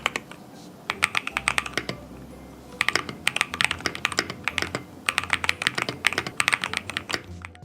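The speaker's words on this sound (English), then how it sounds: "This mechanical keyboard responds perfectly to each press, making it an ideal choice for both gamers and everyday users." Rapid bursts of mechanical keyboard typing, crisp clicky keystrokes in several flurries separated by short pauses, close and clear with no voices.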